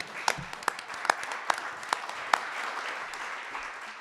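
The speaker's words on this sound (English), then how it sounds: "I think we need a round of applause for that coat." Scattered applause from a small audience at a club gathering, a handful of distinct sharp claps over a soft, sustained patter, fairly quiet and distant.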